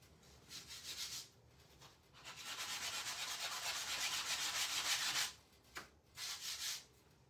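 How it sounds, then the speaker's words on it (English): Sandpaper rubs lightly over a wooden Christmas door hanger in a series of soft, scratchy strokes, one long continuous pass between shorter bursts, quiet and close with no talk. "Give it a light sanding."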